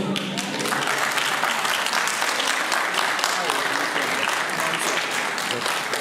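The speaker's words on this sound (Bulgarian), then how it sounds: "Аплодисменти за кума" Steady, dense applause from wedding guests fills the whole stretch, loud and continuous without pause.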